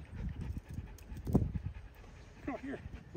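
A dog at the Aggieland Humane Society animal shelter panting in short breathy bursts close by, with people talking over it.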